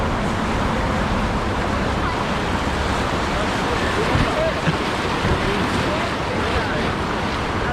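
A loud, constant roar of rushing whitewater rapids on the Pigeon River fills the whole stretch, steady and close, with wind buffeting and no clear voices.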